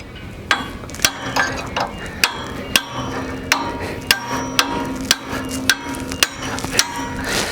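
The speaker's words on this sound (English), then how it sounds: "This one I'm going to use a punch, but I think most of them I can get by without a punch to drive them in." Hammer blows on a steel punch driving ripper teeth caps into a skid steer land plane bar: loud, sharp metallic strikes at a fairly steady pace, about a dozen in a row.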